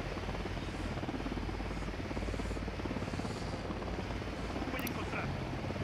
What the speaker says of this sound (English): Oh, their helicopter chopper is coming.